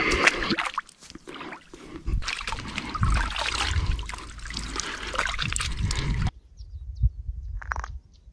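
Water from an outdoor shower trickles and splashes close by, steady for several seconds before stopping abruptly, followed by a few faint drips and small noises.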